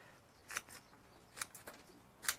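Cutters snipping the roots of a potted citrus tree, three quiet, crisp snips spaced roughly a second apart, close and isolated with no talk.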